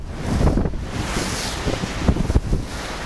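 Strong wind gusting at sea aboard a ferry from Batangas to Puerto Galera, roaring and buffeting the microphone with low rumbling, mixed with the wash of waves.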